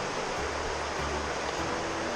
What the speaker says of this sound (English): Over there's Forney Creek